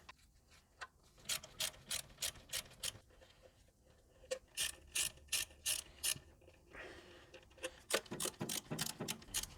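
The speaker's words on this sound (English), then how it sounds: "So take a small 10mm socket, and we're just going to loosen each of those bolts" Ratchet with a 10mm socket loosening bolts on the swivel hub knuckle of a Toyota Landcruiser, heard close and alone as repeated runs of crisp, quick clicking strokes in short regular bursts.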